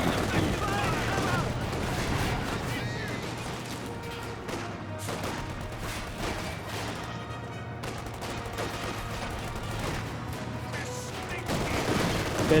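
Gameplay audio from Company of Heroes 2 with dense, continuous battle noise: rapid machine-gun bursts and sharp rifle grenade blasts under a commentator's steady talk.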